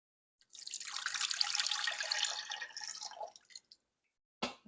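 Water pours steadily into an Instant Pot holding a beef tongue, a continuous splashing stream for about three seconds that tapers into a few drips, then a brief clunk.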